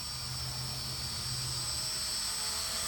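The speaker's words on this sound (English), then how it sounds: "Now this is my first time actually flying the quadcopter" A Hubsan H502E quadcopter drone in flight gives off a steady, high-pitched whine with a constant drone beneath it, sustained and fairly close throughout.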